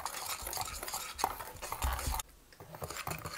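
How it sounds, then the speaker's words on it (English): Powdered milk paint being stirred together in a container, heard as close gritty scraping and rubbing strokes that stop abruptly partway through, followed by fainter scraping. "We're stirring the powdered paint together very well."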